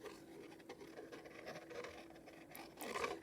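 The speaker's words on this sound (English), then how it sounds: "And then I'm going to stitch some lace around the edge." A sewing machine stitching lace around the edge of a paper junk journal page, faint quick mechanical whirring and patter in short bursts, close but quiet, with a louder rustle at the end.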